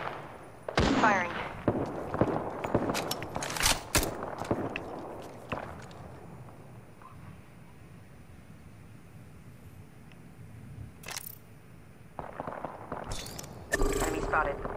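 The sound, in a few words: gunfire in the video game Apex Legends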